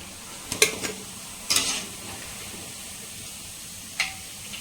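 Banana flower masala vada frying in a pan of oil, a soft steady sizzle with a few sharp clinks and scrapes of a utensil turning the fritters, close and quiet, no talk.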